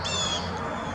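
Birds call in a backyard, a single harsh crow-like caw or squawk lasting about a second, fairly close and clear.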